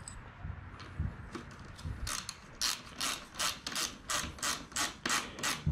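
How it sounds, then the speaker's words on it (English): A ratchet wrench tightening a hex fork cap on a Sur Ron RST Killah fork, a close run of about a dozen steady, rhythmic clicking strokes that become more regular as it goes, with no talking. "get the trusty wrench"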